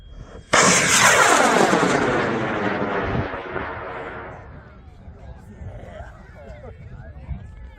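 A model rocket of almost two kilos launches on an I-500 motor at a sport launch event. The motor ignites with a sudden loud roar that fades steadily over several seconds as the rocket climbs away. Crowd noise follows.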